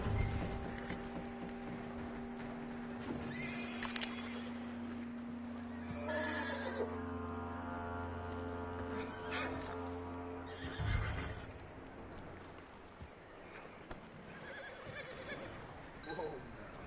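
Horse in the Red Dead Redemption video game whinnying loudly several times, with clip-clop hoofbeats and game ambience underneath; a few bursts stand out sharply near the start and middle.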